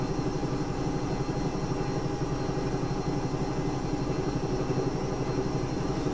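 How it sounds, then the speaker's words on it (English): A Bell 222 helicopter in the X-Plane 11 flight simulator, flying as a London air ambulance, gives a steady, droning engine hum with a fast, constant rotor pulse that stays level throughout, with no voices. "Yeah, this is a great aircraft, but unfortunately, doesn't sound anywhere near as good as the Gazelle."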